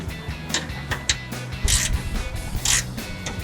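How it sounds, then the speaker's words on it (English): A ratchet on an extension clicks in short bursts while loosening a bumper bolt on a 2014-2015 Silverado 1500, with close, light mechanical rattling between strokes. "So what we're going to do is grab an extension, go from there."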